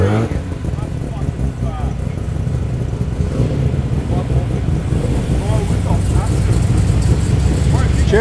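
A rotary-engine car passes on a busy Sydney street during car spotting, its engine note rising and building toward the end amid traffic rumble, with people talking over it.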